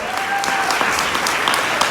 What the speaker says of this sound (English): We're gonna do one more round of applause for Brett and for Lindsay